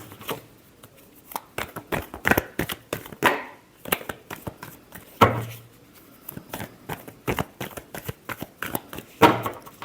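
Deck of cards shuffled during a tarot reading, a series of quick, close riffling and snapping bursts in uneven rhythm, with no voice over them.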